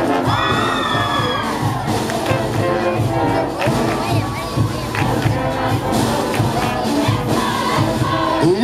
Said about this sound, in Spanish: El aplauso fuerte para el bloque de mujeres Caporales Orígenes San Andrés